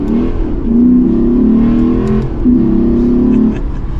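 Lexus RC F Fuji Edition with its naturally aspirated Toyota V8 revving loudly up close, two sustained climbs in engine pitch with a short dip between them, heard alone.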